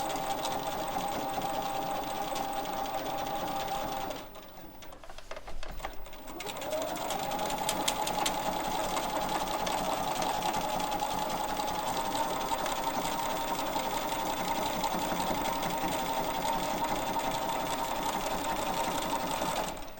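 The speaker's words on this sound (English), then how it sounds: "Now we'll stitch back along the top to get to that outside triangle." A sewing machine stitches a quilt-as-you-go block, running in a steady continuous whir with a brief pause midway before resuming and carrying on evenly to the end.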